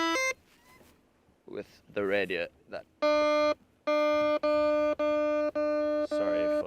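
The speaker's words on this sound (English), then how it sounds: "Sorry for the beeping, everyone." Loud electronic beeping in long steady tones, several in a row, with someone talking briefly before and between them.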